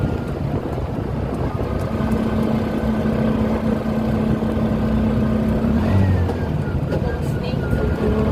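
A motorbike on a winding provincial road in the Philippines hums steadily with a constant engine drone and heavy wind rush, while someone talks over it.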